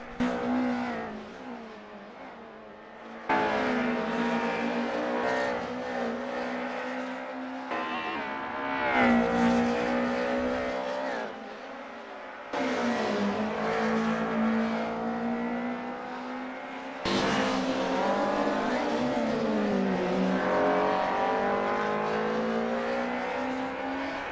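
Racing cars lapping Imola in a sim racing game, including a Mercedes-Benz 190E Evo II, with engines revving, shifting gears and changing pitch in long pulls and abrupt cuts, loud and close throughout.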